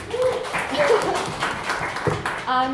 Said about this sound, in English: please give yourself a round of applause, everybody